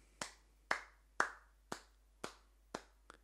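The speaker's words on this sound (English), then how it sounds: "so give yourselves a clap" Kindergarten and year-one children at a school show clap in a slow, regular rhythm, seven distinct claps about half a second apart with a quick extra pair at the end, faint and clear against near silence.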